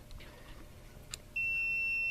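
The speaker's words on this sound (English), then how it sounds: "does the same thing except it just beeps" A multimeter's continuity setting gives a steady high-pitched electronic beep while testing a dryer's start and motor switch, starting partway through and holding continuously to the end, loud and close.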